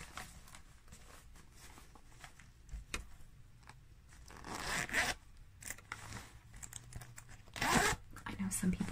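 A bag zipper is pulled open and shut in several quick, raspy bursts, up close, with brief pauses and light handling noises between them.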